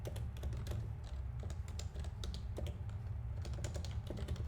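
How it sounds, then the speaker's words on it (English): Rapid, irregular clicks of typing on a computer keyboard, the keystrokes crisp and close over a steady low hum, alone without talk. "I've finally gotten pretty good at typing on this keyboard"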